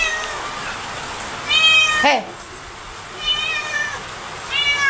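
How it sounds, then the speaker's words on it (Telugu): A cat in a village home meows several times in short, close, clear calls, with a single brief human exclamation. "పిల్లి వచ్చిందండి"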